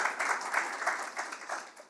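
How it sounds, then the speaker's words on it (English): Audience applause at an authors' forum, a steady wash of many hands clapping throughout, fairly even and moderately loud, tapering slightly toward the end with no voices over it. "let's give that a round of applause"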